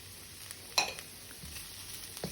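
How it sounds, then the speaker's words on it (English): A sliced carrot is sautéed and pushed around a pan for a shrimp and vegetable stir fry, with a faint continuous sizzle and a few soft scraping stirs, one sharper knock near the start. "Now this is 1 carrot. I'm going to move it around. Allow it to saute"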